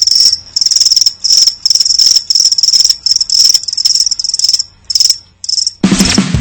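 Crickets chirp loudly in rapid, pulsing bursts with short pauses, close and steady, before a sudden burst of broadband noise at the end.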